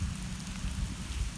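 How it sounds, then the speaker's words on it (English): Rain beginning to fall outdoors over an old former military ground during an evening metal-detecting outing, a steady, even hiss of light rainfall with no talking. "it's been threatening rain. We got a system moving in for the weekend, and I think it's just starting now."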